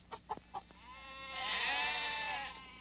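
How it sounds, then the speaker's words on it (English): Sheep bleating on a farm, a few short calls and clicks first, then one long wavering bleat swelling and fading, moderately close. "Those are sheep."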